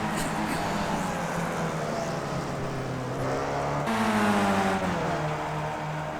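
Skip Barber race cars lapping the Nurburgring in iRacing, a steady engine drone that shifts pitch as one car accelerates, close and loud, with faint commentary underneath.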